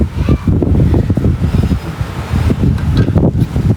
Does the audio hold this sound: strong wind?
yes